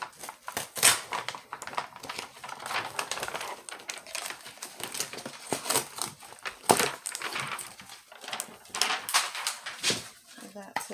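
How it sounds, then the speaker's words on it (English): Tape being peeled off a cutting mat during a craft project, heard as a run of crackly, scratchy tearing and handling noises close by, broken into irregular bursts across the stretch. "Now you can take your tape off."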